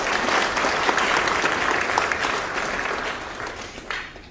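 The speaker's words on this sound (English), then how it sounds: "Please give yourselves a round of applause." A crowd at a New York welcome event for President Irfaan Ali gives a sustained round of applause, thick and even, slowly thinning toward the end.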